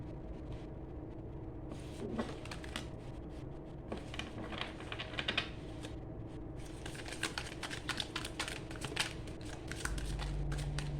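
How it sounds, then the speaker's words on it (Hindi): Tarot cards shuffled by hand in a steady stream of papery riffling and sliding, with brief pauses and renewed bursts, fairly close and moderately quiet, with no voices. "लास्ट टाइम शफल करते हैं, अगर शफल और करना पड़ेगा।"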